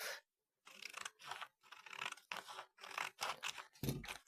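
Fabric for a stitched birdhouse project being cut in half with scissors, heard as roughly eight close, crisp snipping and scraping bursts in an uneven rhythm with short pauses and no talking.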